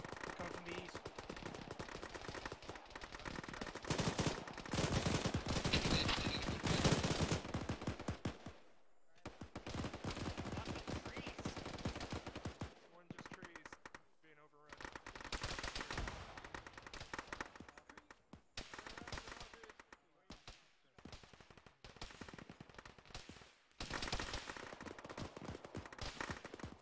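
Rapid bursts of automatic and single gunfire crackle in the ShackTac military video game, coming in loud clustered volleys separated by brief pauses, with voices talking between the shots.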